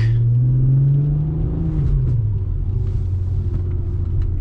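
A VW Golf MK4 R32 driving in the rain, missing its mid pipe, gives a deep, loud engine rumble from inside the cabin as revs sweep down after a pull and settle into a steady cruise.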